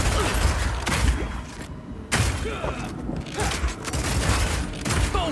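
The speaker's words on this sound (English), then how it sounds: "your Power Shot hits a weak spot and does a huge amount of single target damage" Power Shot bow skill from Path of Exile 2 striking a weak spot and exploding, a dense stream of booming impacts, thuds and mechanical clatter layered over constant battle noise, loud and continuous throughout.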